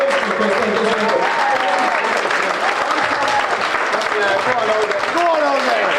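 Sustained, loud applause and clapping from an audience at a football club's end-of-season presentation evening as the players stand, with cheers and voices mixed into the steady clatter throughout.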